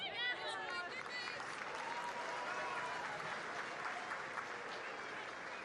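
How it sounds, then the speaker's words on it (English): A healthy crowd at a women's A-League football match between Wellington Phoenix and Western United in Porirua, cheering and clapping in a steady, distant roar, with commentary voices heard over it. "Everything the Wellington Phoenix are doing being cheered by the healthy crowd here in Porirua."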